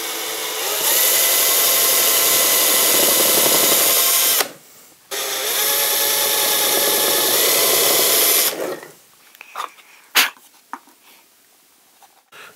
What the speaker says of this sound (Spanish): En este caso va a ser un taladro de 3 milímetros porque le vamos a meter